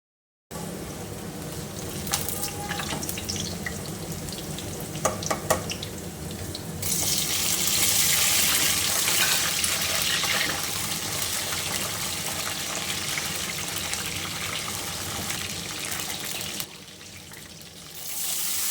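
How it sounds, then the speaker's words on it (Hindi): Water splashed into a pan of frying golden onions, a sudden loud hiss and gush that swells and holds steadily for several seconds after a few sharp clinks, then eases off near the end. "इधर थोड़ा-सा पानी का छींटा लगाया है"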